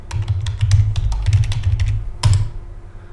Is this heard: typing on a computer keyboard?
yes